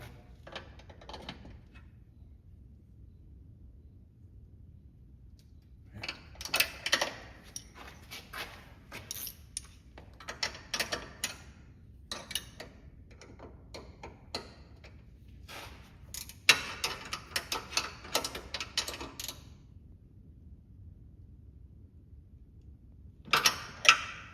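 Bursts of quick metallic ratchet clicks from a wrench tightening strut brace bolts on a Subaru BRZ, Scion FR-S or Toyota 86 during an STI draw stiffener install, coming in short close spells separated by quiet pauses.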